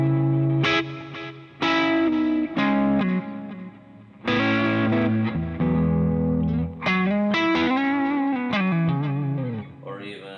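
Electric guitar through a Fractal Axe-Fx II running the factory preset Buttery, a Budda-style tone, playing warm, lightly driven phrases and sustained chords close and loud, with brief pauses between figures.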